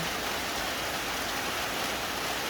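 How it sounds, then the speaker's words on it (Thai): Steady rain falls on a cattle pen behind a house, a continuous broadband hiss with no distinct drops or voices. "เมื่อนี้ฝนตก อากาศเย็นสบาย"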